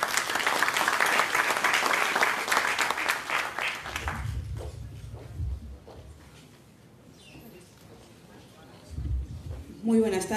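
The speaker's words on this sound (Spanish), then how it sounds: "La recibimos con un fuerte aplauso" Loud audience applause welcomes congresswoman Marisol Espinosa at a SUTESAL event held at the Congress of the Republic. It fills the first four seconds, then fades into room noise with brief murmurs and a voice near the end.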